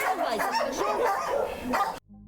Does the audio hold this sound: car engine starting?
no